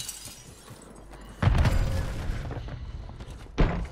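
A grenade detonating in a multiplayer shooter game: one heavy blast with a rumbling, debris-filled tail, followed a couple of seconds later by a sharper secondary crack.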